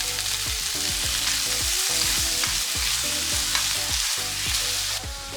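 Beans frying in a little oil, with a loud continuous sizzle and rhythmic scraping strokes of a utensil stirring through the pan.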